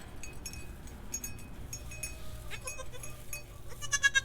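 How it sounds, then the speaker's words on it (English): Mini Nubian goats on a family homestead bleat now and then against a faint, busy barnyard background; the calls grow louder and more frequent toward the end, with a light clink mixed in. "you're also going to probably hear all my other goats"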